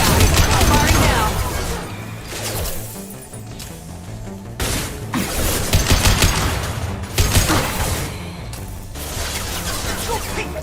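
Video game gunfire in Mass Effect 2 comes as bursts of loud, rapid automatic fire separated by brief pauses, dense and close throughout.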